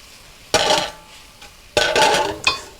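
Coconut shrimp being flipped over in a frying pan: two bursts of clattering, scraping utensil and pan noise with a faint sizzle beneath, separated by a short lull.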